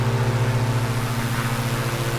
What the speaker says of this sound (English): the sound of the engine I like on the DA62